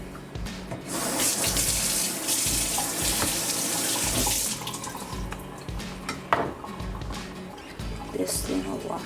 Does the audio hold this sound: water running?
yes